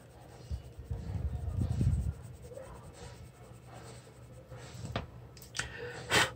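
Markers colour on drawing paper, a soft scratchy scribbling that swells into a brief denser rub near the start, then gives lighter intermittent strokes and a few sharp taps, faint and close, with no talk.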